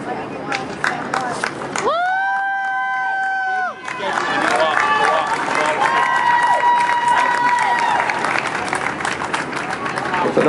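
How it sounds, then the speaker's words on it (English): Crowd applause and cheering at an Over The Edge rappelling charity event in Boston, a broad steady wash of clapping and voices with whistles and cheers rising over it, fairly close and sustained throughout. "It's a nice round of applause for Katie and Sarah."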